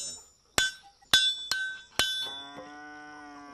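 A new shoe is hammered onto a horse on a small Romanian farm: four sharp, ringing metallic blows spaced about half a second apart, the last one leaving a long, fading metallic ring.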